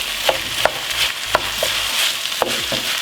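Jasmine rice with chicken and sausage is stirred around in a frying pan, giving a constant close sizzle broken by several sharp scrapes and clinks of the spoon against the pan, with no talk.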